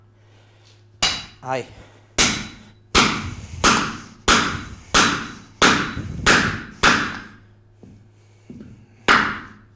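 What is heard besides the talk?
hammering a wooden form onto its centre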